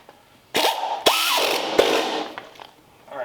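Ratchet wrench tightening bolts on a Cadillac 331 engine, with a few bursts of loud, close, buzzing clicks broken by short pauses, then fading to quieter clicking.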